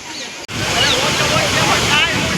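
Loud, steady rushing water fills the clip, a broad continuous roar like a torrent or cascade, with a brief dropout near the start.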